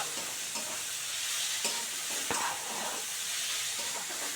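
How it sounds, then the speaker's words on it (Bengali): Spice masala fries in a pan under a continuous moderate sizzle, punctuated by a few soft scrapes and taps of stirring, heard close with no talking. "একটু ভালো করে ভাজা ভাজা করে নিই"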